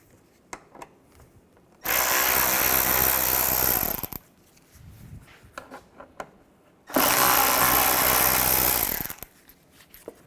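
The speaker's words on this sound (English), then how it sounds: "Take these screws out. You're going to use a T25 Torx bit." A power tool with a T25 Torx bit backs screws out of a 2007-2013 Mini Cooper front bumper cover in two loud whirring bursts of about two seconds each, separated by quiet handling clicks and taps.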